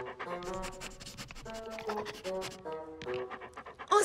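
Cartoon dog Futé pants in quick, steady breaths under a light music bed, moderately close and fairly quiet, with no talking.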